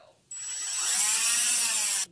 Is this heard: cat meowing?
no